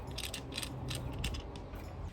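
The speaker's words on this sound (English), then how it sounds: "Find the bolt size that you'll be using and attach it with just a couple spins." Metal bolt spun a couple of turns onto a porch rail bracket during a garden planter kit install, a faint close ratcheting rattle with short repeated clicks.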